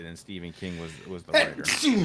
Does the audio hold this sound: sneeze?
yes